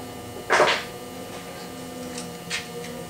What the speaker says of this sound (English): Turn the screw and everything turns freely.